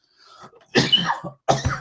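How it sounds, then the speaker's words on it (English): Two harsh, loud coughs close to the mic, the second following shortly after the first, preceded by a faint breathy rasp. "I'm about to die over here with my coughing"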